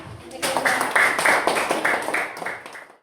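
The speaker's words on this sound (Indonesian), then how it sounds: "Kita kasih tepuk tangan untuk kelompok 4." A classroom of students claps for a student group, a brisk burst of many hands clapping at close range that swells quickly, holds for a couple of seconds, and then fades out.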